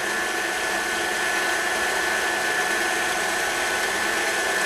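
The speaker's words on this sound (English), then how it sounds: "Let me turn up the speed. So we're going to get a nice smooth mixture." An electric mixer whisking carob brownie batter at a higher speed gives a steady, loud, even high-pitched whir with no pauses and no talking.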